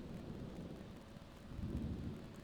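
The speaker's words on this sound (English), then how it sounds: "it's been raining an awful lot" Rain and rumbling thunder from a storm in the Sims video game, a steady low wash of rainfall with a swelling thunder roll near the end, heard alone.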